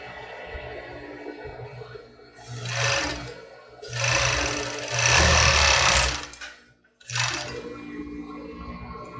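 A sewing machine runs in loud bursts stitching the second side of a padded bra, three long runs of rapid mechanical whirring separated by brief pauses.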